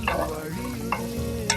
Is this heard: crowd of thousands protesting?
no